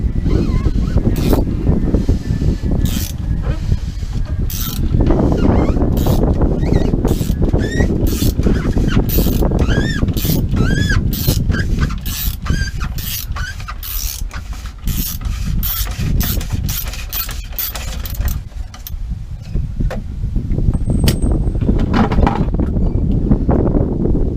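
A 32 mm socket wrench ratchets loose the fuel filter cap on a 2012 Ford F250 6.7L Powerstroke, a close series of sharp metallic clicks in irregular runs over heavy wind rumble.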